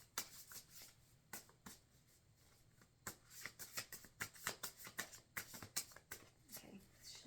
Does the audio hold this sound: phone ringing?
no